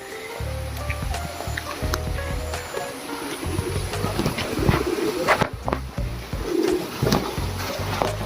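Pigeons cooing beside a Shiva temple, soft repeated low coos running through the whole stretch amid outdoor ambience and scattered clatter, fairly close, with no talking.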